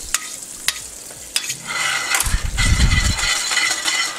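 Olive oil and butter sizzle in a heated pan, a close frying hiss with a few sharp clicks early, then a burst of scraping and stirring before the sizzle settles, with no talk.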